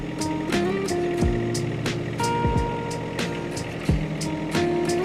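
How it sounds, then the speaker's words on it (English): A John Deere sub-compact tractor idles steadily while hydraulics lower its front-end loader arm to the ground, with a constant engine drone under whining shifts and a few sharp metallic clunks. "we're going to drop the loader, and it's dropping this arm here down to the ground"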